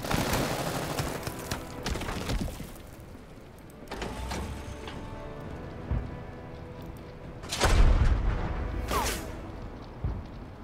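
Tank gunfire in the World War II strategy game Total Tank Generals, several sharp cannon-like shots spaced apart, the loudest bursts near the end, with mechanical clatter between them.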